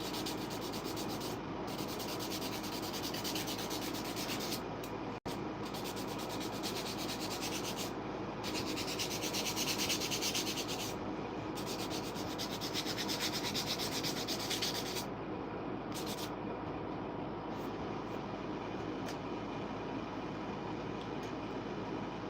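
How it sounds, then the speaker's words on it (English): Sandpaper rubs down an uneven spot on a Dollar Tree DIY craft piece, a continuous close, coarse scratching with brief pauses between strokes and no talking. "I can just sand that. I just sand that right down."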